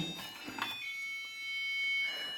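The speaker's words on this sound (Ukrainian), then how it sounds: "12 година ночі спрацював будильник" An alarm clock going off at midnight sounds as a steady, faint electronic tone held for a couple of seconds, with a brief burst of noise at the start.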